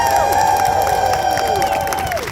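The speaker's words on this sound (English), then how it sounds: "We're going to clap very loud and cheer for all the groups that are out here today" A loud crowd at a gun-violence rally claps and cheers, dense applause under shouts, with a high whistle-like tone sliding across the noise.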